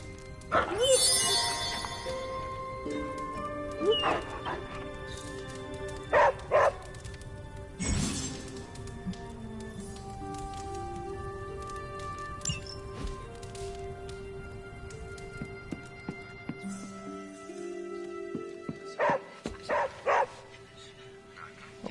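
A dog in the barracks of Marvel's Midnight Suns barks and yips in short bursts among game music and ambience, with talk over part of the scene.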